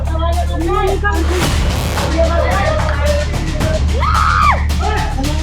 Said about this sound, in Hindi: युवक चीखता रहा, चिल्लाता रहा